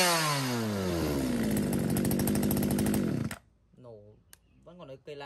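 A used Japanese Echo chainsaw engine runs loud and close at steady high revs during a test, then cuts off abruptly, after which someone talks.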